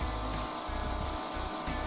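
Steady hissing spray from a pressure washer with a standard nozzle, rough scrubbing texture, pulsing in short bursts as water is forced across a cheap rug, loud and close.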